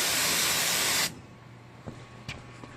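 A pressure washer blasts a wooden deck with a loud, steady hiss of spray that cuts off abruptly, leaving quiet background with a few soft knocks and clicks.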